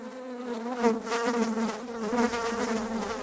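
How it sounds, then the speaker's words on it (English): Gnats swarming around a hornet's kill in a backyard, a dense steady high-pitched buzzing of many wings heard close and continuous, with no talk. "Like vultures, a group of gnats swarm the kill to feed on whatever they can."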